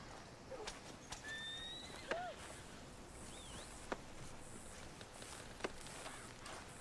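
A horse whinnies once in a short rising-falling call in the video game Red Dead Redemption II, amid a busy outdoor ambience with birds chirping and occasional clip-clop steps.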